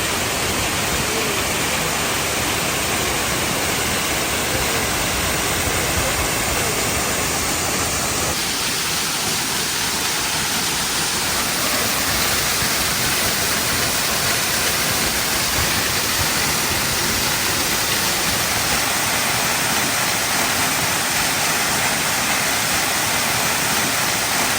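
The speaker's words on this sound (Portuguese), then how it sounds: "Essa aqui é a cascata San Ramon" Cascata San Ramon, a waterfall of roughly 900 metres in Panama, pours in a steady, dense broadband roar that holds unbroken throughout, close and full, with no voices over it.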